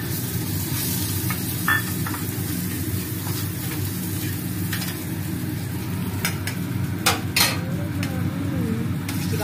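Garlic, carrot, onion and beans sizzle steadily in hot oil with a continuous crackling hiss, broken by occasional clinks and scrapes of a utensil stirring against the pan.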